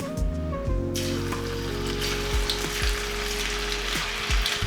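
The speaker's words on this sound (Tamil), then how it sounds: "கடாயில் எண்ணெய் நல்லா சூடாயிருச்சு. ஆற வச்சிருந்த ஃப்ரெஞ்ச் ஃப்ரைஸை எடுத்து ஆட் பண்ணிக்கலாம்." French fries frying in hot oil in a kadai, a bright rushing sizzle throughout, joined by a low tonal hum that steps down several times, no voices.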